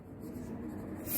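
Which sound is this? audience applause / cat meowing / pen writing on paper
pen writing on paper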